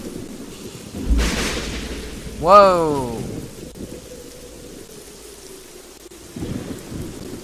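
In the Mountain Crime: Requital game, a thunder crack rolls over steady rain, loud and close, with a short exclaimed voice.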